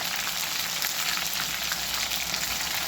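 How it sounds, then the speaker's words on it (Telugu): Cumin and mustard seeds sizzle steadily in hot oil for lemon pickle, a dense, even crackling hiss that carries on close and unbroken with no talk. "నూనె మసలు జీలకర్ర, ఆవాలు"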